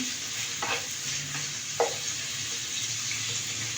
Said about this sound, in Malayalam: അത് വറുത്തതിന് ശേഷം നമുക്ക് പനീർ ഒന്ന് ഇതിലിട്ടിട്ടൊന്ന് ഫ്രൈ ചെയ്തെടുക്കണം.